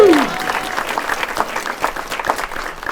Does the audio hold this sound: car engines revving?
no